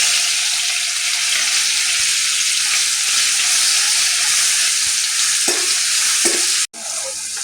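Cumin, curry leaves, chili and ginger-garlic paste frying in hot oil give a loud, steady sizzle, briefly stirred with a couple of soft clinks near the end before a sudden short drop.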